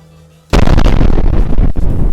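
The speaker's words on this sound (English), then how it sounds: "it's a pretty insanely powerful cannon" A powerful cannon fires in the video game Brick Rigs with one sudden, very loud blast that rolls into a rumbling, crackling roar after a quiet start.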